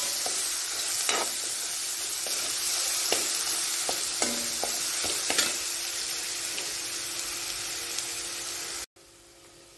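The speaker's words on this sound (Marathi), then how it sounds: "आता टाकूया आपण मिरचीचा ठेचा, म्हणजे बारीक मिरची केली आहे।" Crushed green chili paste hits hot tempering oil for vada pav filling, giving a loud, steady close sizzle with occasional scraping stirs and ticks of the spoon, the frying hiss cutting out abruptly near the end, no talk.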